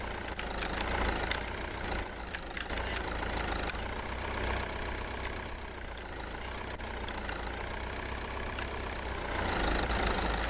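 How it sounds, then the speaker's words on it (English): A car engine idles in the video game Traffic Lights Deluxe inside a parking garage, a low steady rumble with faint clicks and a rising, falling whine over it, continuous throughout. "Oh, I hear your car."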